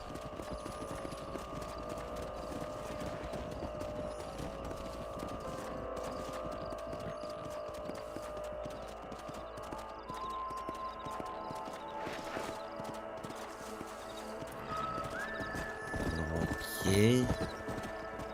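Horses in a Rockstar video game clip-clop steadily at a walk throughout, with a brief whinny near the end, mixed with ambient game sound and occasional speech.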